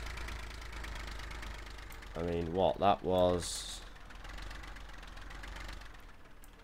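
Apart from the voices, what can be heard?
tractor engine idling, from video game Farming Simulator 15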